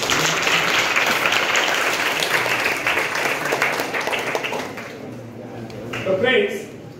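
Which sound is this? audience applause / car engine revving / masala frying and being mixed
audience applause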